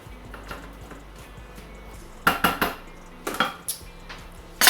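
Spatula scraping and knocking against the inside of a Thermomix bowl, a few sharp clustered scrapes and taps over a quiet kitchen background, close and with no talk.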